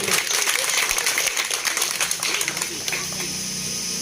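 A crowd bursts into loud applause that thins out and fades over a few seconds, with voices mixed in.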